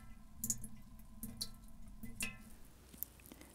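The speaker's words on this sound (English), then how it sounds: "The sound of sap dripping into buckets is a welcome springtime sound." Maple sap dripping into collection buckets in a springtime sugarbush, soft irregular plinks spaced about a second apart over quiet background.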